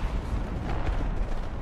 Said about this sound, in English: They're shooting down.